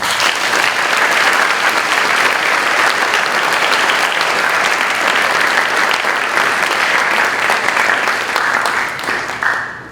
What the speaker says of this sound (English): Let's give everyone that thought today was important one more round of applause.